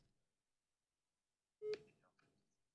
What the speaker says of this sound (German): Ich rufe mal Eli Jello an.